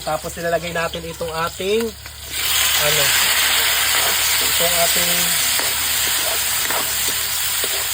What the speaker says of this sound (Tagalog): inilagay ko na itong ating sibuyas at saka bawang.